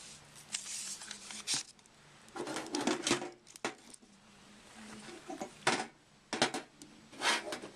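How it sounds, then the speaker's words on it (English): A glue gun is shifted around on a small work surface, giving a series of soft, close knocks, scrapes and clatters in irregular bursts, with quiet pauses between them. "The noise you're hearing is me moving my glue gun out of my way."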